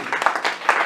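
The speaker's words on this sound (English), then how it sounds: "Give them a big round of applause." Short burst of audience applause for a panel at a workshop: a few sharp, close claps over a light crowd wash, lasting under a second.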